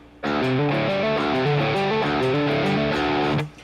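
A fast, distorted electric guitar riff of rapid hammer-on legato notes, ending on an open low note, runs for a few seconds and then stops, loud and alone.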